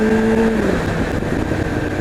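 A motorcycle rides on wet roads, its engine tone climbing and then dropping as it changes gear, with a steady rush of wind and road noise beneath. No voices.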